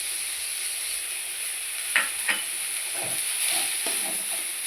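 Onions fry in a pan for kara chutney, giving a steady hiss and sizzle, broken by a few soft scraping stirs of the spoon against the pan.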